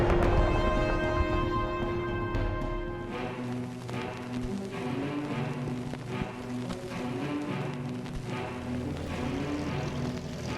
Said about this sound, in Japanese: 塹壕の上空では飛行機による戦いが激しさを増していた。